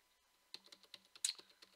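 Computer keyboard keys, the arrow keys, pressed repeatedly during a Minecraft-style game, giving a string of about eight close, crisp clicks in an irregular rhythm with no talk.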